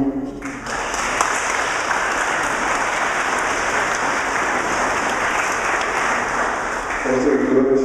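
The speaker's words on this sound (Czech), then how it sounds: "potlesk pro ně." A crowd welcomes home a group of pilgrims back from Madrid with loud, steady applause lasting several seconds, close and full, with voices at the start and end.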